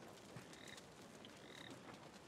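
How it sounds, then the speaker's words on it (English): Frogs croak in the Lords of the Fallen game world, two short rasping calls heard faintly over a dense, hissing ambient background. "I heard a frog."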